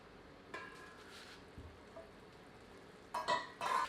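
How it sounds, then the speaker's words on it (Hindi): A ladle stirring chicken rezala in a pot: faint scraping and soft sizzling, then a few louder metallic clinks of ladle against pot near the end. "करछी चलाते हैं"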